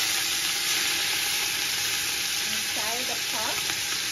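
Pork dropped into a hot pot with a little vegetable oil for Jamaican stew pork, giving a loud, continuous close-up sizzle and hiss with a few brief stirring scrapes near the end.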